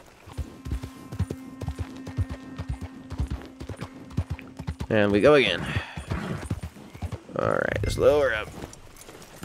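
Rhythmic clip-clop of horse hooves in the video game Red Dead Online, close and steady, then two loud whinnies, with someone talking over the trotting.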